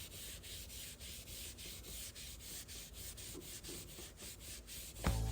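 Red Scotch-Brite pad scrubs a corroded Harley Davidson wheel with glass cleaner, a soft, rhythmic back-and-forth rubbing at a steady pace, close and quiet, ending with a brief clunk.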